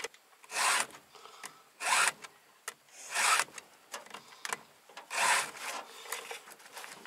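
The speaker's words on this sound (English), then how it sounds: "So this is one of the 2-in-1 chainsaw sharpeners." Rasping strokes of a 2-in-1 chainsaw sharpener filing a steel saw chain outdoors in the woods, several separate bursts of harsh scraping, close up and fairly loud with short pauses between, no talking.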